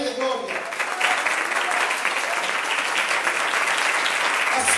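A church congregation claps during a Sunday service, steady rhythmic applause filling the room after a brief spoken call at the start, continuing loudly to the end.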